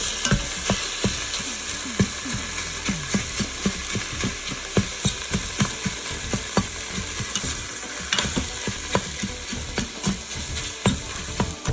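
Ground beef and onions frying in a pan for spaghetti sauce, a steady loud sizzle broken by rapid repeated scraping and chopping taps of a utensil against the pan, close up and continuous.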